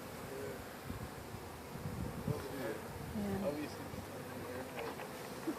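Honeybees being loaded into a hive buzz in a soft, continuous drone, with individual bees whining past up close, while voices murmur quietly in the background.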